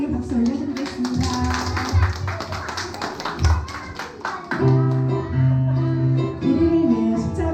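Clapping from a children's church service congregation, a steady patter of hands that pauses briefly and resumes alongside sustained music tones.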